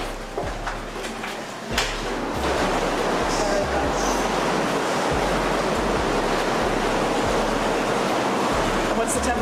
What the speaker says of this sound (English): on a la piscine, on a le swimming pool.